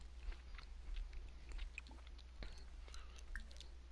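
Close chewing and crunching of overbaked, dry cookies by a character in The Sims 4, a run of irregular small crunches over a steady low hum, with no talking.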